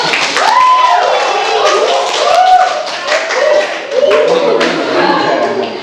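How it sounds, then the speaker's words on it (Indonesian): Scattered clapping from classmates after a group discussion presentation, mixed with a loud wash of overlapping chatter and voices filling the room throughout. "beri tepuk tangan dulu"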